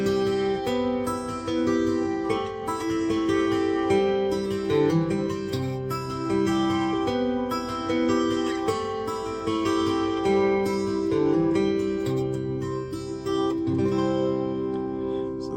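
A finger-picked acoustic guitar in drop tuning plays the intro of a song, sounding steady chords over a descending bass line at a close, even volume throughout.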